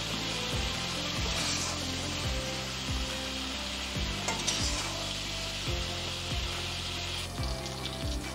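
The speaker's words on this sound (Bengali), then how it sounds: "চিংড়ি মাছগুলো ভাজা হয়ে গেছে" Shrimp frying in oil in a pan, kept at a steady, continuous sizzle, with repeated stirring scrapes at a fairly regular rhythm and no voices.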